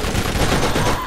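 Rapid, dense gunfire from the video game Borderlands, a continuous loud burst of overlapping shots filling the whole moment with no pause, close and harsh, no speech.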